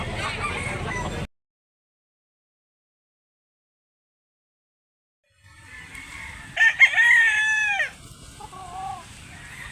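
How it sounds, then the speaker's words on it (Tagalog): Roosters crow at a rural chicken market in Cebu where bullstag gamefowl are sold, a loud nearby crow rising after a stretch of silence, with a fainter second call following over low background noise. "Gandang manok."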